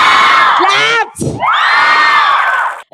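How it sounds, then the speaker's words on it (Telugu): TV studio audience erupts in loud cheering and whooping with high shouted voices, breaks off briefly, then roars again before cutting out. "క్లాప్స్."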